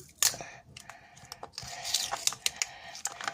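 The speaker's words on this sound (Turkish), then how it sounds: "Squid Game şekeri açalım. Açılsın." A Squid Game candy package is torn open by hand, producing a quick series of sharp, close crinkles and clicks that grow denser toward the end.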